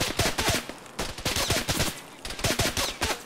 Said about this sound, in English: Yeah, the guy's shooting at me.